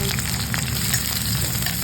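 Chopped onion hits hot oil already tempered with whole cumin and a dried red chilli, and bursts into a loud, dense, close-up sizzle that holds steady throughout.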